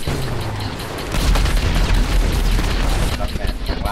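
Loud, dense gunfire and booming blasts in the video game GTA, continuous rattling bursts over a thick rumble, with excited voices talking over the shooting.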